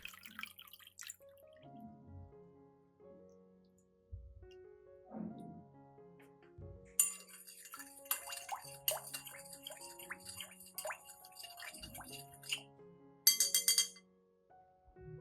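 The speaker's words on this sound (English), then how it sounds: "I will mix the beetroot solution and the garlic solution together evenly." Beetroot and garlic solutions being poured and mixed together, with close drips, splashes and clinks of containers in a quiet setting, with no voices.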